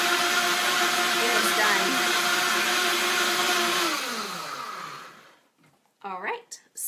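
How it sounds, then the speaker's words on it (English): A blender whirs loudly and steadily while mixing an icy mocha coffee protein shake, then winds down and stops, followed by a brief spoken line. "So we're blending. It's looking good."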